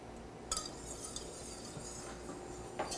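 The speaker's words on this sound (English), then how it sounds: "Now we're going to give it a nice whisk until it boils." A whisk scrapes and clinks against a pot while stirring a vinegar sauce, with quiet steady swishing and a few sharp metallic taps, the first strongest.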